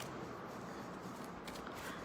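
A deck of playing cards being shuffled, a steady dense riffling rustle running throughout at low volume with no talk.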